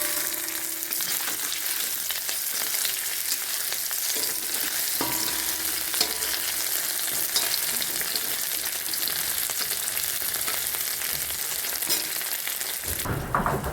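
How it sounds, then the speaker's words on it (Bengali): Chops fry in a pan until lightly browned, giving a continuous loud sizzle with crackles and occasional stirring scrapes, and it settles briefly near the end. "এই যে এভাবে করে একটু ভেজে নেব, একটু লাল লাল হতে দেব"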